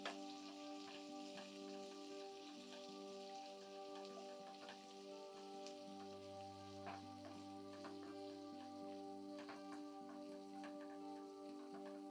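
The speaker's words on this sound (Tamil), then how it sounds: "ஆட் பண்ணி நல்லா ஹீட்டில் ஃப்ரை பண்ணுங்கள்" Chopped garlic frying in hot oil on high heat, a steady dense crackle and sizzle that holds evenly close by for the whole stretch, with a low hum joining partway through.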